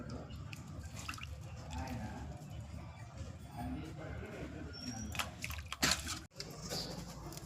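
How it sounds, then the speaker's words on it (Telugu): Fish is washed with salt and water for a fish curry, making soft wet squishing, rubbing and dripping sounds close by. A voice talks over the handling, and there is a sharper splash near the end. "ఉప్పు యాడ్ చేసి వాటర్తో ఇలా శుభ్రం చేసుకోవాలి, నీట్గా కడుక్కోవాలి."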